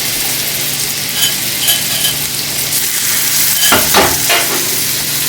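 Shrimp frying in a crowded pan, a loud continuous close sizzle with scraping stirring strokes near the end and no voices.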